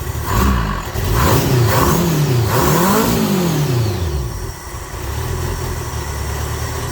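A project motorcycle engine running close and loud, revved in several quick blips that rise and fall before it settles back into a steady idle.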